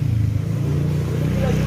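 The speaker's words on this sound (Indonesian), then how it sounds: "knalpot motor lewat gitu ya, ngeberem" A motorcycle engine rumbling past through its exhaust, a loud low throb rising into a rev, close and continuous over its short span.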